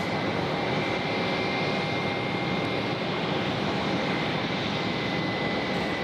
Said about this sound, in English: this Cessna we see on screen is currently probably doing some training loops this morning